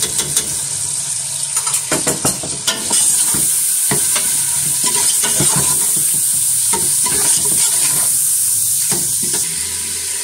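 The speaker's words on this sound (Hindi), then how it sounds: "अब साथ ही मैं लहसुन अदरक का पेस्ट डाल दूंगी, ये देखें, ताकि इसको भी थोड़ा सा भुनाई हम कर लें" Ginger garlic paste fries with keema in a pan, with a loud continuous sizzle and hiss. A spatula stirs with rapid scraping strokes close up, and no one speaks.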